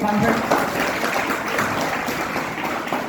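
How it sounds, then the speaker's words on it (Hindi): A room of students applauds a classmate during a placement readiness session at an engineering institute, steady dense clapping filling the whole stretch with a voice mixed in underneath. "तालियां हो जाए बच्चे के लिए।"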